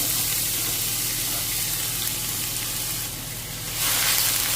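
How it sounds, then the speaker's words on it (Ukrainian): Steady crackling sizzle of onion frying in hot oil, loud and close, continuing without pause and rising slightly near the end. "І жарю її до світло-золотистого кольору."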